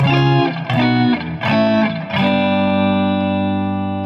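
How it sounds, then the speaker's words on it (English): Electric guitar chords through the plate reverb setting of an Electro-Harmonix Oceans 3-Verb pedal, strummed several times, each left to ring out in a smooth, dense reverb tail that lingers after the last strum. "Plate reverb."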